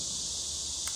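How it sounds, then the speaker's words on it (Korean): Cicadas drone in a dense, unbroken high-pitched buzz on a hot summer day, loud and steady throughout with no pauses. "날씨 한번 매미가 참 울기 좋은 날씨네요"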